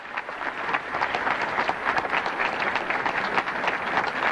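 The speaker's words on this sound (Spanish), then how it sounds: "creo que estamos escuchando los aplausos" Applause from a crowd greeting a president after an address ending in cheers in Spanish, heard as a dense, steady wash of many hands clapping, fairly loud and sustained throughout with no voices standing out.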